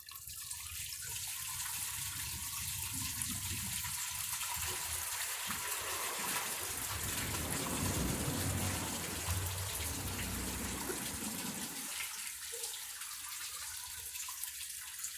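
Water rushes steadily through a 1992 Lamosa Sahara toilet, flushing like a washdown urinal, a continuous close gush lasting about fifteen seconds.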